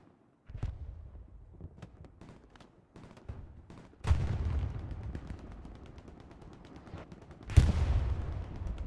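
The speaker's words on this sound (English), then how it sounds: "Beautiful artillery shot from, well, artillery." Artillery shells land in a Hell Let Loose match, with two big booming impacts standing out over steady crackling gunfire and smaller blasts, each boom trailing off into a rumble.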